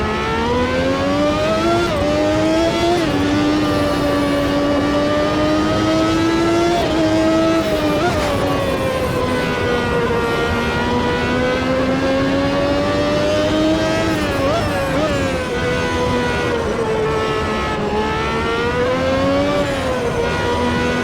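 Race cars in the Automobilista 2 racing sim lapping the Jerez circuit, engines droning loud and steady for the whole stretch, with pitch rising and falling through gear changes and corners and no talking.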